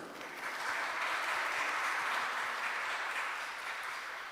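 A church congregation applauds to welcome a newborn baby daughter, a steady, even wash of many hands clapping that swells and holds for a few seconds, then eases slightly, with no voices over it.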